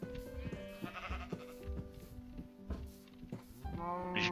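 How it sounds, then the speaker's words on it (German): Sheep in the Minecraft FTB Ultimate modpack bleat repeatedly in short, wavering calls, some overlapping, with soft blocky footsteps between them and no speech. "hört ihr Schafe."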